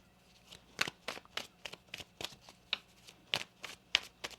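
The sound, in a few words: shuffling tarot cards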